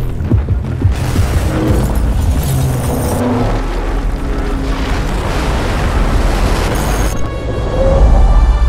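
A tower crumbles in a video game as its supporting pillars are blown out, giving a loud, sustained rumbling roar of collapse with deep booms and a heavy low crash near the end.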